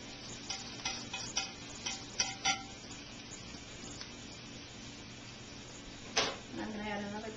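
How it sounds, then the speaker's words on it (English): Garlic roasting in hot grapeseed oil for a yellow tomato salsa: a soft, steady sizzle runs throughout, broken by several clicking stir or utensil sounds early on and a louder scrape near the end. "we're just letting the garlic roast in the hot garlic and the hot grapeseed oil"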